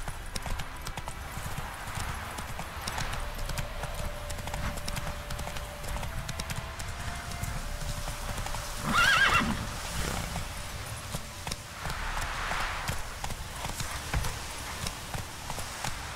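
A horse in The Witcher 3 gallops with steady, rhythmic clip-clopping hoofbeats and lets out one clear neigh midway, over a low ambient game soundscape.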